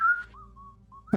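Short whistled tones, imitating little calls meant to lure an animal: a bright sustained whistle, then a few softer rising and falling notes with a brief gap, ending in a sharp louder burst, close and alone.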